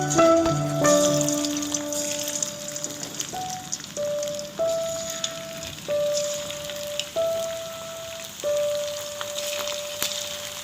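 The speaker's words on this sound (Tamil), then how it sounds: "இப்போ வந்து நம்ம வறுக்க ஆரம்பிக்கலாம்." Marinated chicken 65 pieces coated in masala fry in hot oil with a steady, dense sizzle that sounds like rain. Faint sustained tones run underneath, and there is no talking.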